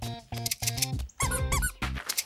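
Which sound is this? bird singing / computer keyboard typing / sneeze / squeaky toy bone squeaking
squeaky toy bone squeaking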